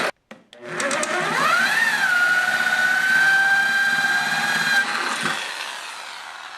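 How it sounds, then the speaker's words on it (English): A power drill spins up with a rising whine while drilling holes in a floor, holds a steady high pitch for a few seconds, then winds down; a couple of sharp knocks come before it. "now they want us to drill the remaining holes in the floor and rivet them"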